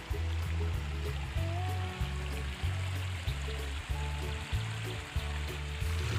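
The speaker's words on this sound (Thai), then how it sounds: "ดูเสียงน้ำไหลค่ะ" A small stream beside a house, where water spinach grows, flows with a steady hiss and trickle, accompanied throughout by a low, rhythmic, pulsing hum repeating every second or so.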